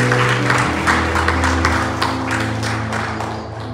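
A church congregation claps together during a Sunday morning service, a dense burst of hand claps over sustained organ or keyboard tones, gradually fading toward the end.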